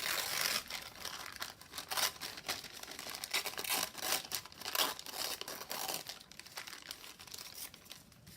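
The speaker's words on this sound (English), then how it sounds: "I'm just going to tear it." Paper torn by hand for a craft project, a close run of rough ripping and crinkling bursts that come in uneven pulses, loud and continuous without any speech.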